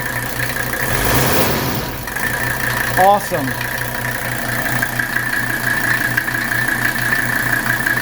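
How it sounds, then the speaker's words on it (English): A 1981 Mercedes 300SD diesel engine with freshly rebuilt injectors idles smoothly and steadily up close, with a brief rev early on, while someone speaks briefly over it. "Look how smooth that engine is."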